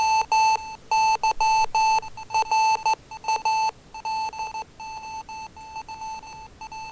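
Morse code beeps from automatic emitters heard over radio, steady high tones keyed in fast irregular dots and dashes, with a second fainter beeping signal overlapping in the background.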